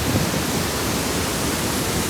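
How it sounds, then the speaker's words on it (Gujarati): Water pours through three or four open dam gates after heavy rain, a steady, loud, unbroken roar of rushing water with no other sounds. "3-4 દરવાજા ખુલ્લા છે. પાણી જો ડોમ ઉપર આવે છે."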